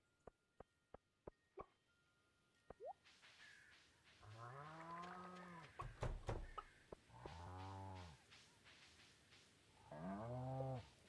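Cows mooing on the farm in Stardew Valley, several long, deep, tonal moos one after another, led in by a few sharp clicks, fairly clear with no talking.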